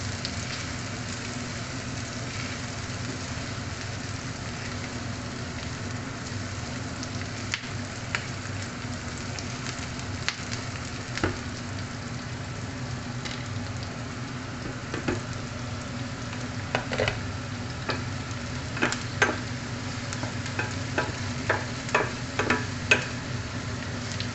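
Chopped onions and garlic fry in a pan as the base for broccoli with chicken, giving a steady, even sizzle with scattered crisp pops and ticks that grow more frequent toward the end, with no voices.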